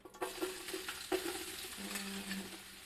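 Onion sizzles in oil in a pot, a steady close frying hiss with a few light stirring clicks and scrapes, fairly quiet and with no talk.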